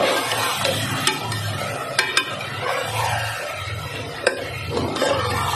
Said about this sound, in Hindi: तमाम मसाले डालने के बाद इसको मैं अच्छी तरह से फ्राई करना है गोश्त को